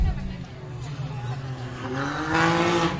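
Race cars at Texplex come past on the track, their engines swelling from a distant drone to a loud, close roar near the end, with faint voices in the background.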